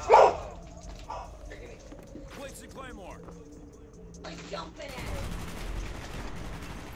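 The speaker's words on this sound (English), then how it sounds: "Oh, my dogs are also barking." Dogs bark a few times in a home during a live stream, the sharp barks at the start loud and later ones fainter and farther off, mixed with scattered household noise and background talk.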